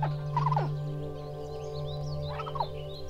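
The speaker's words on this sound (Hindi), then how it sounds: "वो दोनों चिड़िया एक दूसरे से क्या बात कर रही हैं" Two birds call back and forth with gobbling, turkey-like bursts, one near the start and another answering about two seconds later over a steady background hum.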